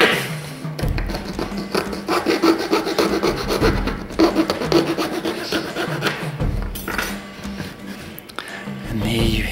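A small saw cuts off the end of a fake bolt, making continuous rhythmic rasping strokes close up with brief pauses and a few knocks.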